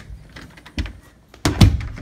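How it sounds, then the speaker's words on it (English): A door thuds shut in an animated alligator comedy scene, two dull impacts close by, the second louder and heavier, with no talk over them. "don't slam the door in my face this time"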